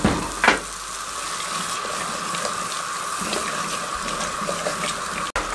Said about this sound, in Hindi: ब्राउन प्याज डाल के हमने 2 से 3 मिनट अच्छे तरीके से मीडियम फ्लेम पे भुनाई कर ली